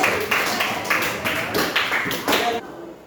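Classroom clapping after a student presentation in a social studies lesson, about eight to ten distinct hand claps in a steady rhythm from a small group nearby, ending abruptly.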